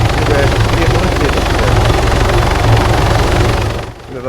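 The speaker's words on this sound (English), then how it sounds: "just so you don't have to listen to that helicopter" Helicopter flying overhead in Arma 3, a loud close rotor chop and engine roar that cuts off abruptly near the end, with someone talking over it.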